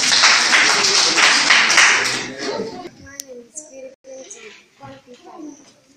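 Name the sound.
children clapping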